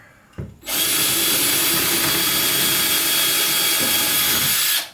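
A power drill bores holes into a wall with no stud while an IKEA Varde shelf is being installed: a loud, steady, continuous whine that starts abruptly after a brief pause and runs almost unbroken to the end.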